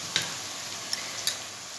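Garlic and spices fry in a pan under a continuous soft sizzle, broken by three faint ticks of a utensil against the pan, with no voices.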